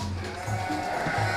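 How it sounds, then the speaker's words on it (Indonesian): Garut sheep bleat in a pen on a breeding farm, several loud, wavering calls close by that overlap one another, with a few brief pauses between them. "Nah kita punya domba Garut."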